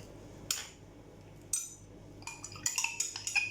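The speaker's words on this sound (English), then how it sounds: "I'm going to stir and dissolve it" A utensil stirs salicylic acid in a container for a homemade face cleanser, giving a few sharp clinks and then a quicker run of light clinking and scraping, close and fairly quiet.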